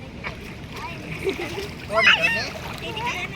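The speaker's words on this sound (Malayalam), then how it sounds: "ഒരു മേത്ത് വെള്ളം ഒഴിക്കല്ലേടാ ഉണ്ണിച്ച്" A child splashes water, with a clear splash burst near the middle and lighter splatters around it, while adults and children talk nearby.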